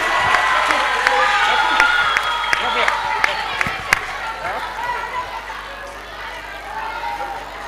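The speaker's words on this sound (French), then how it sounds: "on applaudit" Audience at a sports festival panel session claps and murmurs, a moderately loud crowd texture with scattered sharp claps and cheering, while voices talk over it before it thins out.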